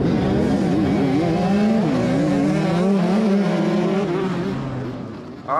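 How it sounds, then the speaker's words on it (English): Off-road motorcycles at the start of the John Penton GNCC race, engines roaring together with wavering pitch as a bike bogs down, loud and continuous before easing off near the end. "My bike started, but it bogged down, and then Chase sliding out."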